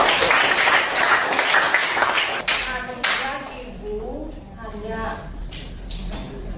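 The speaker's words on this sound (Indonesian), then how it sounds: "Tepuk tangan dulu untuk kita semua." Classroom clapping during an Indonesian social studies lesson, with hands clapping loudly for the first couple of seconds before a teacher's voice takes over and talks through the rest.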